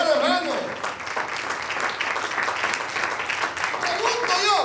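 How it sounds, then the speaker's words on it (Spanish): A church congregation applauds for the Lord during a Spanish-language sermon, sustained dense clapping that fills the whole stretch at steady loudness, with voices calling out over it. "Denle un aplauso al Señor, hermano."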